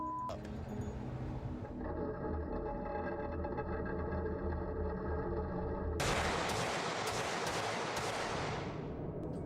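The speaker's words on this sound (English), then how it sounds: "Not bad for like 50 yards with a pistol, huh?" Pistol shots at an indoor shooting range, sounding as sustained loud blasts with a ringing, reverberant tail and a sharp burst of repeated cracks near the end.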